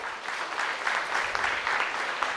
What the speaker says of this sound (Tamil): ஸோ இன்னொரு அளவு அதுக்கு பெரிய கைத்தட்டல் கொடுத்துங்க ரோட்டரிக்கு.